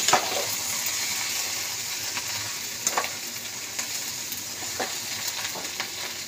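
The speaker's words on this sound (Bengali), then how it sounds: "এই যে একটু ভাজা ভাজা হোক মশলাটা" Ground turmeric and coriander spices fry in a pan while being stirred, giving a constant hiss broken by soft scraping strokes and occasional spatters, close up and without speech.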